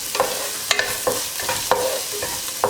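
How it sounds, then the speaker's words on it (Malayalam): Chopped onion hits cauliflower frying in a pan, giving a steady sizzle broken by several sharp scraping stirs of a spoon against the pan, close and without any voices. "ഇനി ഇതിലേക്ക് നമുക്ക് കട്ട് ചെയ്ത് വെച്ചിരിക്കുന്ന സവാള ചേർക്കാം."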